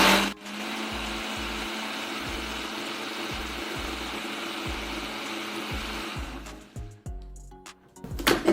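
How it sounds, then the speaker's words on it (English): A countertop blender blends fruit in loud, steady bursts, its motor pulsing on and off in repeated short runs before cutting out near the end. "Now I'll open it to see if all the fruit has been blended."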